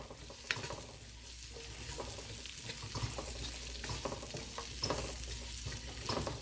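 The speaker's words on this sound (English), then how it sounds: "We're going to saute" Food sautés in a pan, likely with onions, as a steady low sizzle runs under intermittent spoon scrapes and stirring clatter, quiet and close.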